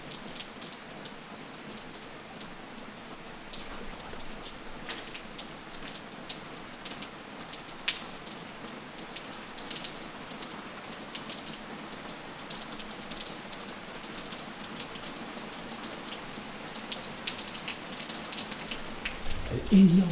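Steady rain falls at an abandoned sanatorium, a dense continuous patter of drops on surfaces lasting throughout, fairly even in loudness with a few louder splashes.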